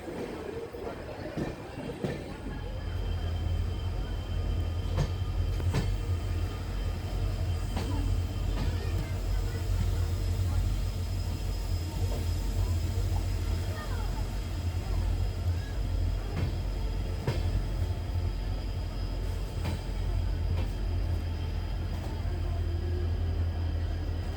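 Express train from Pune to Goa descending the Braganza Ghat, a steady low rumble of rolling stock heard from inside with rhythmic wheel clicks and occasional sharp clanks over the rails, sustained and moderately loud.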